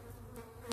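A faint, steady hum of honeybees gathers around a split nucleus hive in an apiary. The buzzing stays low and even throughout.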